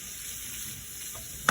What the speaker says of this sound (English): Hope you enjoy the sizzle.